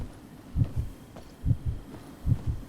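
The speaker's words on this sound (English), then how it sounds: "So that heartbeat you hear means there's an invisible player." Muffled, low heartbeat thumps come in close double-beat pairs, three pairs in a steady rhythm, with a faint hum underneath. The heartbeat is the game's cue that an invisible player is nearby in the video game Mistfall Hunter.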